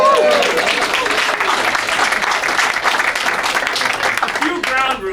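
A crowd claps at a workplace safety and health day show, a loud, busy burst of applause with voices and cheering mixed through it before it tapers near the end.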